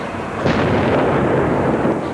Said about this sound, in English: at 12:27 there was a large explosion